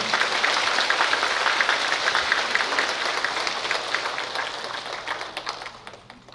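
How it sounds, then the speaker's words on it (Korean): Steady, moderately loud applause from a Catholic church congregation welcoming a returning seminarian, a dense wash of hand claps that gradually thins and fades out. "학사님 환영의 박수 부탁드려요."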